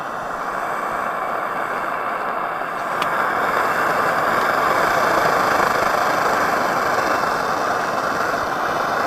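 An Optimus 99 pressurized camp stove burning after being pumped, giving a steady close roar with a constant rushing hiss that swells slightly partway through and holds even to the end.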